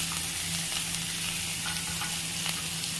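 Chopped potatoes frying in a pan with chopped tomato for chow mein, a steady close sizzle with faint scraping and stirring, and no talk.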